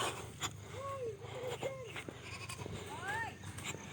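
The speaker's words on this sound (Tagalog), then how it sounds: "Kukunin namin yung mga kambing ni Toto." Several goats bleat in short, wavering calls, some overlapping, over faint rural outdoor background noise and murmuring voices.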